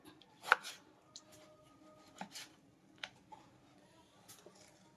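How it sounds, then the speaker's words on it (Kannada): Tomatoes are chopped on a board in a home kitchen, giving a few soft, irregular knife taps and cuts, faint and close, with quiet gaps between them. "ಸೊ ಟೊಮೆಟೊ ಕಟ್ಟಿಂಗು ಆಯಿತು"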